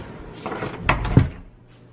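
An interior room door is pushed shut as someone walks out, a short muffled thud with a soft latch click, close by and quiet, preceded by faint shuffling.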